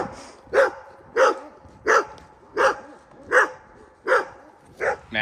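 Dogs at a roadside dog hotel bark in a steady series of about eight sharp woofs, evenly spaced and fairly close, with no talking over them.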